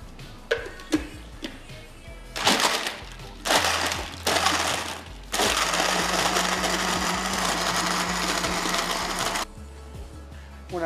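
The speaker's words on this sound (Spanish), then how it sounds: "ya está listo para ir a la licuadora y hacer el daiquiri sin alcohol" An electric blender runs in loud bursts while mixing an alcohol-free daiquiri, with a few short pulses followed by one long steady whir that stops abruptly.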